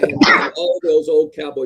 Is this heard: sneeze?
yes